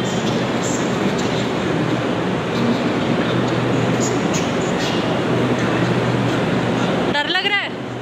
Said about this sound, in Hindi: आ गई हमारी मेट्रो